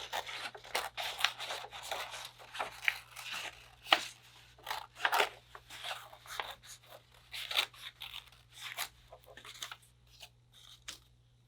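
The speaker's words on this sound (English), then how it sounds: "You're then going to take it and you're going to cut out your moon." Scissors snip through paper to cut out a moon shape, a quick irregular series of close crisp cuts and rustles at a quiet level.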